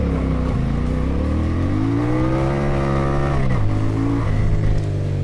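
A Chinese adventure motorcycle is ridden hard, its engine revving loudly and climbing through the gears with steady, close engine drone and shifting pitch.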